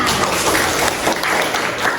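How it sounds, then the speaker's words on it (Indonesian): A classroom of students claps hands together in an accounting lesson, a dense, steady patter of many hands filling the space at moderate loudness with no talk over it. "Kasih tepuk tangan."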